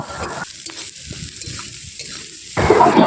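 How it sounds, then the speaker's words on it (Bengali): Fried onions with ginger and garlic sizzle in a pan while being stirred, a close crackling hiss with soft scraping, growing louder at the end. "দিয়ে দিলাম আদা, দিয়ে দিলাম রসুন। এবারে এগুলোকে একটু একসাথে মিশিয়ে হালকা করে কষাবো।"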